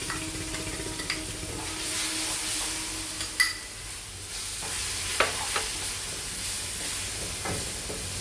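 Mango pieces stirred into frying vermicelli in a pan for mango semiya payasam, a steady sizzle with scraping stirs and a few sharper clinks, close and continuous with no voices.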